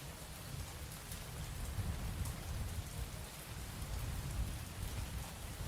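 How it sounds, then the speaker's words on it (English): Steady, heavy rain in the video game Mon Bazou pours down without a break, a dense, loud wash of downpour that fills the whole stretch with no speech over it. "that rain just seems excessive."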